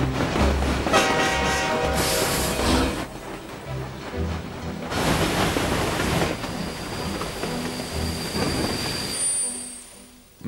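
Train wheels squealing loudly on rails as the cars roll past, with rumbling carriages, shifting metallic screeches and a faint high whine near the end, no voices.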